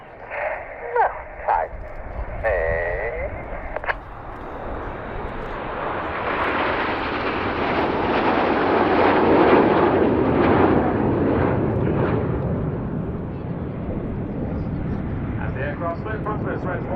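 Red Arrows jet aircraft at the RAF Cosford airshow, a roaring jet pass that swells to a loud broad rush and slowly fades, with a commentator talking over the start and crowd noise around.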